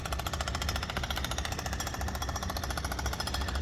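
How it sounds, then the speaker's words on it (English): A jackhammer pounds away nearby in a fast, relentless, evenly repeating rattle that runs loud and alone throughout. "Really sorry about that jackhammer"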